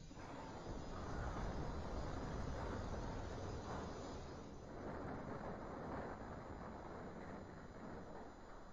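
A car crash in the BeamNG.Drive driving game comes as a dense, roaring rumble of crunching and grinding noise. It runs steady and loud for several seconds with no voice over it.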